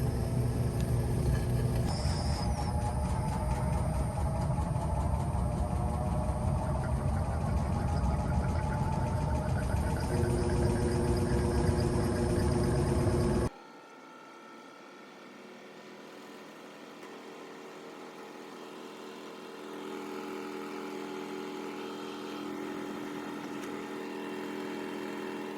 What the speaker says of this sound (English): All right, so now it's draining, and it's gonna spin again.